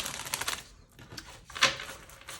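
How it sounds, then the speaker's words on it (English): A Fyodor Pavlov tarot deck is shuffled gently, giving soft, quick clicking and riffling of cardstock, quiet and close, with no one talking. "Oh, they shuffle very gentle."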